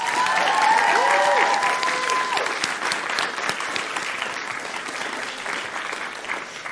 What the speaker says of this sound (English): so a big round of applause to them